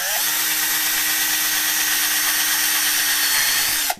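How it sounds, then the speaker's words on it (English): A cordless power drill boring 1/8 inch tooling holes by hand for an experimental airplane's rib templates whines steadily at high speed, loud and close, for several seconds before cutting off abruptly. "we'll just drill us a couple of 1/8 inch tooling holes"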